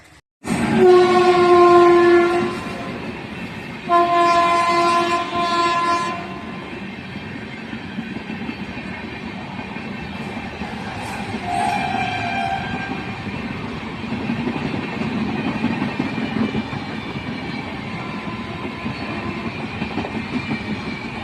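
A train passes in front of a house, opening with loud, sustained horn blasts, followed by a rumbling, clattering roll of wheels and wagons that continues steadily. A second horn blast comes midway and there is no speech.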